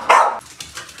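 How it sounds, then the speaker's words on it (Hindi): A dog gives one sharp, close bark followed by a couple of softer, faint yips, heard from a vehicle setting. "रेक्स भौंकने लग रहा है, सुन रहे हो?"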